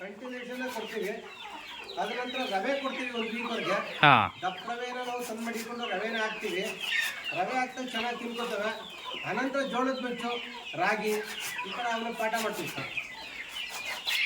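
Country chickens cluck on a farm in repeated bursts of close, busy clucking, with a sharp squawk partway through; a voice talks quietly underneath.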